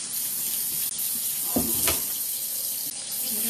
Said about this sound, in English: Right into that colander. And like I said, immediately rinse it with cold water.